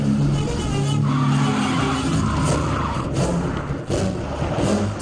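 A car skids with tires squealing as it brakes hard to a stop in the middle of a road, loud and close, with a scraping screech running through the whole stretch and a thump near the end.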